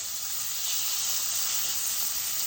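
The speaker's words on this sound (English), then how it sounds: "I'm going to go on ahead and flip over this beautiful steak now that it's seared nicely on one side" A steak sears in hot duck fat just after being flipped, giving a steady, dense, loud sizzling hiss that holds unbroken throughout.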